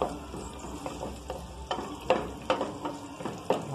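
Food browns in a pan with a soft steady sizzle, broken by irregular scraping knocks as it is stirred, close and fairly quiet.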